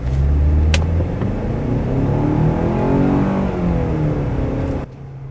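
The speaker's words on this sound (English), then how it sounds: "we got it up to about 30 miles per hour right here in this parking lot" A 2026 Kia Sportage EX compact SUV accelerates to about 30 mph across a parking lot, its engine and road noise rising in a loud, close, rising rumble before dropping away abruptly at the end.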